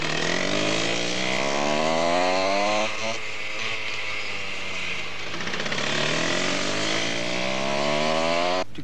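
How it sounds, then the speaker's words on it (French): Go-kart engines racing on a circuit in Marseille in 1982, several high-pitched two-stroke whines rising and falling in pitch as karts pass close by, loud and continuous, with no talking. "Le kart, c'est un engin rapide, puissant et qui ne nécessite aucun permis."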